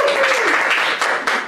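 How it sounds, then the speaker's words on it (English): A class audience claps after a student team's presentation, with a short burst of close applause and a voice carrying over it. "So give him a big round of applause!"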